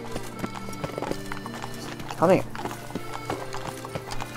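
A horse in Witcher 3 trots closer with steady clip-clop hooves and lets out a brief whinny midway, mixed under game music while someone talks over it.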